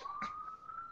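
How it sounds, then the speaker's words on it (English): A police-type emergency siren wails steadily in the background for the whole second, faint and distant, with a brief voice-like burst near the start. "Sirens."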